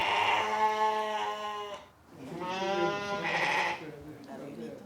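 Sheep bleat at a breeders' assessment event, two long, loud, wavering calls close by, separated by a brief pause.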